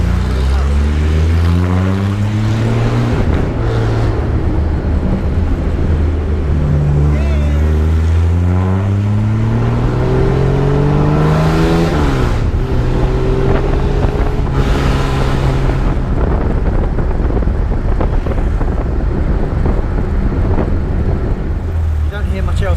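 A Jaguar XK120 classic car cruising around London, its engine revving through gear changes with rising and falling tones under heavy wind buffeting, loud and close, while people talk over the noise.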